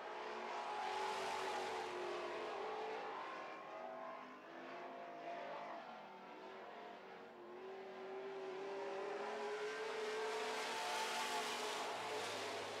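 Super Stock race cars on an oval track, engines droning and revving as they circle, rising and falling at a distance with a steady roar over a crowd-like background.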